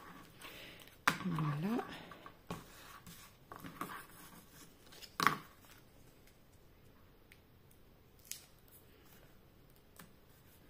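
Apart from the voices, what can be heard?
cutting 3D foam pads for a pop-up card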